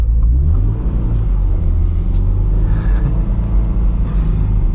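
A Subaru BRZ on all-season tires pulls away gently in snow, its engine giving a steady loud low rumble with a slight rise in revs, close and continuous with no talking.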